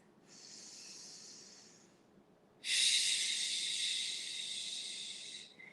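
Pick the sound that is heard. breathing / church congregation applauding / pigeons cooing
breathing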